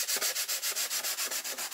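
Sandpaper worked back and forth over the leading edges of a balsa model airplane wing to round them, with about twelve even, rhythmic rasping strokes, close and alone.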